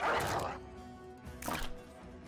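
A dog in the tactical fantasy game Battle Brothers gives two short, close barking bursts with a brief gap between them, sounding alone without talk.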